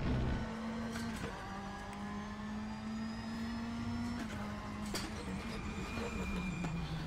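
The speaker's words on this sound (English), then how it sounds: "that Judd hill climb car sounds incredible" A Judd-engined hill climb race car in the racing game RaceRoom hums steadily at moderate volume, its pitch slowly creeping upward, punctuated by a few sharp clicks.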